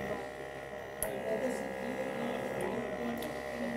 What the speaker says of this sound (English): I can hear the solenoid valve clicking.